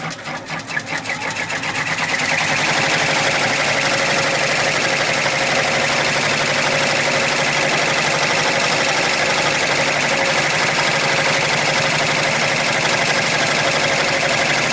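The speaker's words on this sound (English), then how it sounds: "Just going to put the satin stitch around this now." An embroidery sewing machine stitches a satin stitch border around a patch, a loud, steady, close mechanical whir with a rapid needle rhythm that starts up and runs continuously without talk.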